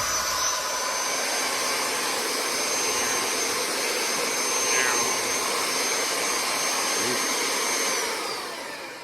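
A Vevor D8860 magnetic drill motor running at full speed, a steady loud whirring whine held close and unbroken, easing off slightly at the very end.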